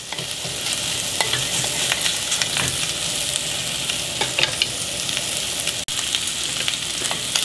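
Chinese sausage renders and fries in hot oil with a steady, close sizzle, punctuated by faint scrapes and clicks of stirring throughout.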